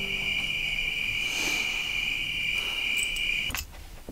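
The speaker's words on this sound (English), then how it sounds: "Yep, crickets." Crickets chirp at night on a dark hillside trail, a steady, loud, high continuous trill close by that cuts off near the end, with no voices.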